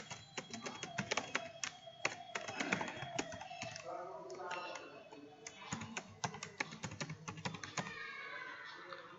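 Rapid computer keyboard typing while logging into an account, dense irregular clicks and key taps running steadily throughout at close range, with brief pauses and no talking.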